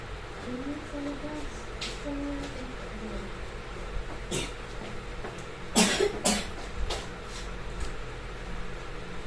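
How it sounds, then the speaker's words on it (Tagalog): A few sharp coughs from a child break through a quiet indoor room, one louder pair close together, with faint murmuring and background hum. "Parang inuubo oh, yata."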